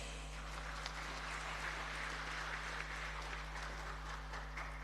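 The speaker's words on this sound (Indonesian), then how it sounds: "Kita beri aplaus." Audience applause at a formal centenary commemoration of Nahdlatul Ulama in Keerom, Papua, a steady wash of clapping from a hall crowd, heard over a constant low electrical hum with no talk.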